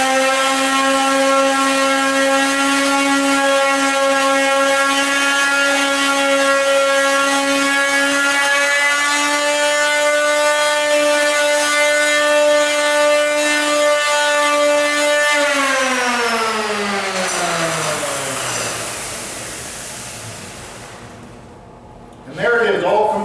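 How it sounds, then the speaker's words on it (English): Small palm sander cleaning up edge banding: a loud, steady motor whine holds for about fifteen seconds, then winds down in pitch and fades out after the sander is switched off. "You may want to just take your little palm sander and clean that up a little bit."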